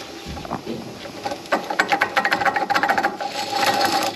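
Worn wheel bearing from a 2010 Nissan Rogue spun by hand, giving a close, rough grinding rattle with rapid rhythmic pulses that get faster and steadier toward the end.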